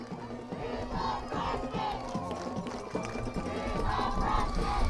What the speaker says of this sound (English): And the crowd really enjoys Jose Sigala.